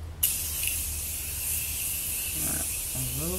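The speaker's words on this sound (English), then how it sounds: "Then I'm going to go ahead and set my face using this Morphe Continuous Setting Mist." A Morphe Continuous Setting Mist sprays onto a face in one sudden, close burst that becomes a steady hiss lasting about three seconds, with faint background noise beneath it.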